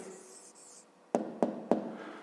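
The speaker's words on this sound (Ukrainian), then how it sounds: "Записуємо тоді відповідь." A hand writes out a math answer on paper: a soft, quiet scratching of pen strokes, then three short, sharp taps in quick succession near the end, close by with no talking.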